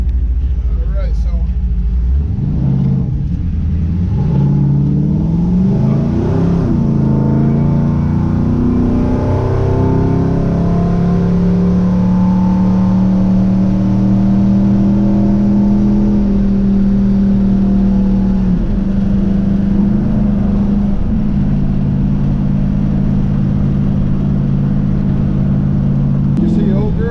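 A Chevrolet C10 pickup truck with a swapped LS3 V8 engine drives along, its steady engine drone and rumble rising and falling with revs throughout, with someone talking over it.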